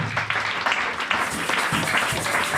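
A church congregation applauds in praise during a prayer service, a dense, continuous burst of many hands clapping at close range that stays loud and even throughout.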